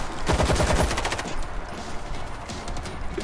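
Rapid automatic gunfire in the zombie shooter World War Z, a loud close burst of machine-gun shots at the start that thins into scattered shots and a dense din of battle noise.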